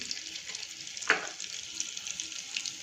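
Cumin and whole spices frying in oil and butter for chhole pulao make a faint, steady sizzle, with a single soft clink partway through.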